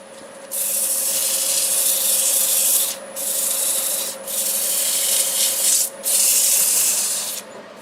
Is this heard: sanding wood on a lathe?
yes